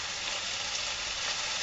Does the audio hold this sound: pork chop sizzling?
yes